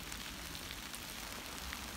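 Rain falls on a winter woodland, a dense and steady hiss of drops on the surrounding surfaces with no other sound standing out.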